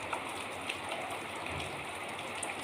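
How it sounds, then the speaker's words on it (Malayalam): Heavy early-monsoon rain pours steadily outside a house window in Kerala, a dense continuous hiss with scattered drop patter, fairly soft and even throughout with no talking. "നല്ല മഴ"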